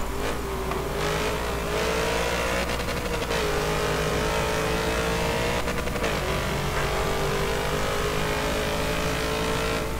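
A Nissan Skyline GT-R R34 race car engine in Forza Motorsport 7 at Hockenheimring drones loudly and continuously, its pitch sliding up and dipping through gear changes, with rough bursts near the start and middle.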